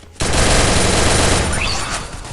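Rapid automatic gunfire from the Free Fire mobile game erupts after a brief pause, a loud, dense, unbroken volley that rattles on to the end.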